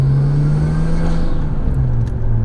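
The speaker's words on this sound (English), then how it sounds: "the exhaust on this car" Nissan Stagea RS Four S wagon with a Blitz catback exhaust and factory cat, idling with a steady low drone and slight rev rise, close and loud with no talk.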